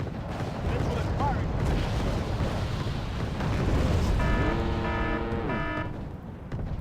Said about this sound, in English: Falcon down, artillery coming in.